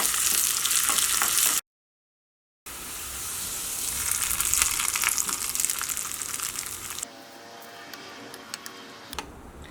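Curry leaves and sliced onion frying in hot oil for a tomato chutney, a steady bright sizzle with crackles, broken by a short silent gap and then easing into a quieter, softer fry.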